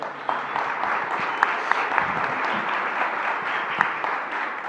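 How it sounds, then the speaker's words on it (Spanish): Applause from a conference audience at a panel discussion, steady dense clapping held at an even level throughout, with a few sharper individual claps standing out. "un aplauso para ella"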